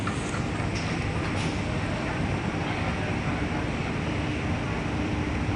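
Steady, loud rumble at a railway station platform where the Arjuna Express train waits on track 5, a continuous broadband noise with no clear breaks.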